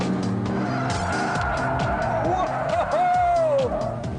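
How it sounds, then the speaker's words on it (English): A 360 brake horsepower TVR Tuscan sports car is driven hard on a racetrack: its engine roars with shifting pitch, and tyres squeal sharply as it corners. "It's out here in open space on a racetrack that the TVR Tuscan really comes into its own."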